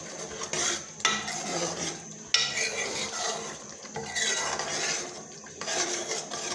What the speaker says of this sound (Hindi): अब चने डाल देते हैं और इसकी करेंगे हम बुनाई